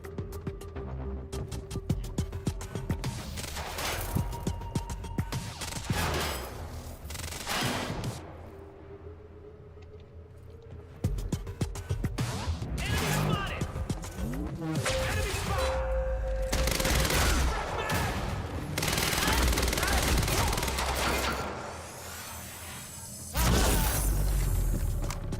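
Gunfire in the shooter game Quantum Break: repeated bursts of rapid automatic shots and heavier blasts, loud and close, with brief pauses and mechanical clatter between volleys and no talk.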